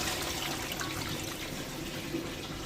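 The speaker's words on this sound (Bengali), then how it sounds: "এবার জল দিয়ে দিলাম" Water pours steadily into a pan of papaya and potato fish curry, a continuous close rushing splash with no talk over it.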